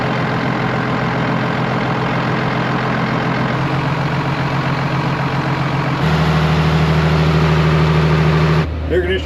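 A John Deere 7810 tractor's diesel engine idles steadily up close, a low rumbling drone that deepens and grows louder partway through before cutting off near the end.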